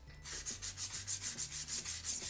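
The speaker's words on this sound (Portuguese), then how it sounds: "E lixando a gente consegue fazer um contorno melhor." Sandpaper is rubbed by hand over a wooden Christmas craft piece, a quick run of about fifteen even back-and-forth scrapes, close and clear, with no voices.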